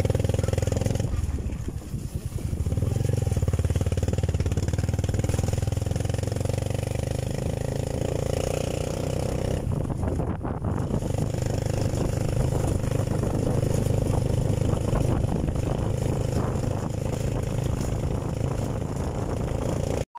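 A motorcycle engine runs steadily nearby through most of the stretch, a constant mid-low drone with some clatter, briefly dipping around the ten-second mark.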